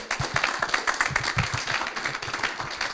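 An audience at a startup founder showcase claps for a founder, a lively close round of individual hand claps with distinct percussive hits throughout.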